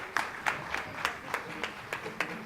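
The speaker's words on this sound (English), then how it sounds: "please give them a great round of applause" An audience gives scattered, fairly faint applause for a school percussion group at a board of education meeting, with distinct claps at a slow, even rhythm.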